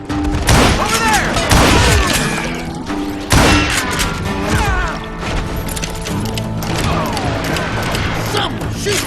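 Gunfire fills a Wild West shootout in the Call of Juarez Gunslinger video game: loud bursts of shots, thuds and crashes, with voices shouting over the battle.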